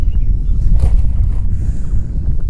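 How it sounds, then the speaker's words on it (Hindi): Wind blowing outdoors in a garden on a sunny day, a loud close rumble and buffeting against the microphone that surges and eases without pause. "शायद, हवा की आवाज़ भी आ रही हो।"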